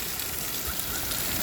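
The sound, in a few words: water fountain spraying continuously in a rock garden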